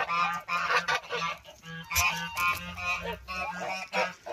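A farmyard drake honks and calls in repeated loud bursts, alone with no talk, the calls coming in a steady uneven rhythm close by.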